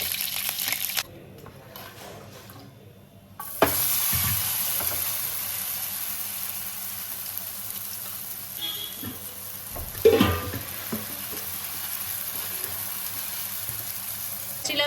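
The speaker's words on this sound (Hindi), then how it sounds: "चलो गाइस अब मैं ये बना रही हूँ चिला। मैंने यूज करी हूँ देसी घी।" Semolina chilla batter fries in desi ghee in a pan with a continuous close sizzle, broken by a few soft clatters and handling knocks.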